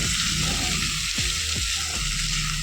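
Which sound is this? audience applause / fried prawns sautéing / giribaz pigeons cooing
fried prawns sautéing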